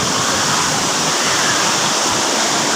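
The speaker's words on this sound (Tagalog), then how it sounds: "Saranac Falls." Daranak Falls, a waterfall, roars as a constant broadband rush of falling water, loud and unbroken at close range with no other sounds rising above it.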